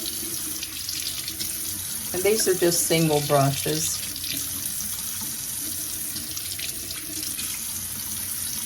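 Warm water runs from a bathroom tap into a sink in a steady hiss while makeup brushes are cleaned, with someone speaking briefly over the flow.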